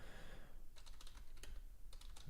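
Soft keyboard typing, a few scattered clusters of key clicks against a faint background hiss, quiet and close.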